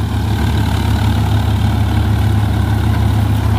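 A tractor engine idles steadily close by during straw-making work with a trolley, a continuous low diesel rumble with even throbbing and no speech over it.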